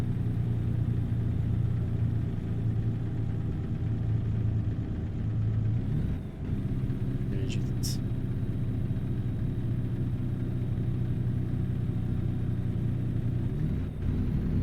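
A car engine in a racing video game driven with a Logitech G920 wheel, climbing a hill in high gear, a steady low rumbling drone that holds throughout with a brief dip partway.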